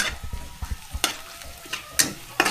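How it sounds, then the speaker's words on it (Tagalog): Ginger, garlic and onion sautéing in a pan, a close, steady sizzle punctuated by several sharp spatula clinks and stirring scrapes at irregular intervals, with no voices. "naggisa ng luya, bawang, sibuyas"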